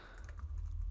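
Quick typing on a computer keyboard while writing Java unit-test code, soft close keystrokes in a steady patter over a low background hum.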